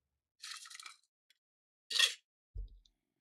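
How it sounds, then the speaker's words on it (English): Ice crunched while drinking from a water container in a hardcore modded survival video game, heard as a few short, crisp crunches with a soft low thump at the end, fairly close and alone. "Some nice crunchy ice as well."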